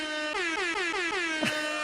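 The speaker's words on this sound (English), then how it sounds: "So they're gonna bring air horns." A loud air horn sound effect blares in a quick run of short, stacked harmonic blasts, ending in a brief downward-sweeping honk; no voices are heard.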